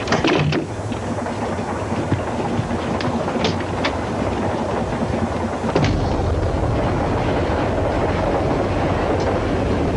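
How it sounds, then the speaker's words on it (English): A train running on rails gives a steady, loud rumble with rattling carriages throughout, plus a few sharper clanks and a stronger jolt around the middle. "Train is very unsteady."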